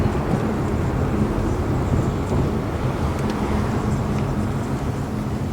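A car with a modified muffler rumbles steadily, a continuous low engine and exhaust drone heard from inside the vehicle, fairly loud and unbroken, with no talking.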